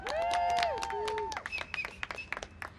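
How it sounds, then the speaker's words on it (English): Small press-conference crowd applauding a coalition pushing for a public bank in Los Angeles: scattered claps, opening with a few high, gliding whoops, then thinning into sparse, uneven clapping. "I just want to give this coalition a huge round of applause for that"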